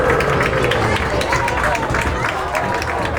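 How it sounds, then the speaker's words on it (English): A dense, steady roar of crowd noise and cheering fills the stands at a high school football game, Arlington at Mamaroneck, loud and continuous with scattered claps throughout. "Here comes the crowd."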